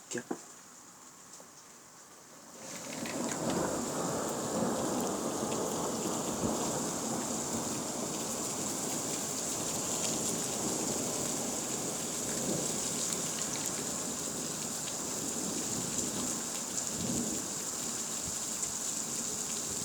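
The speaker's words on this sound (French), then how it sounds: "Activité électrique impressionnante sur l'orage, mais orage modéré" A thunderstorm with sleet over Carpentras, Vaucluse: after a quiet start, heavy rain roars in a dense, steady wash, with rumbles of thunder rolling underneath throughout.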